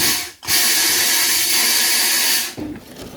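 A homemade vapor blaster built from a dishwasher, switched on by a foot pedal: a loud, steady hissing spray of water and air starting abruptly, running continuously for about two seconds, then cutting off.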